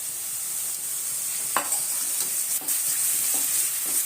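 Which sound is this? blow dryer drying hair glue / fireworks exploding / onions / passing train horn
onions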